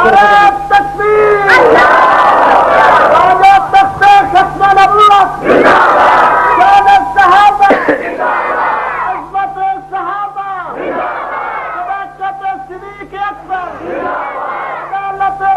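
A large crowd at a religious naat gathering roars a chanted slogan in loud, repeated bursts, answering a leader's call and response, with voices swelling and fading across the stretch.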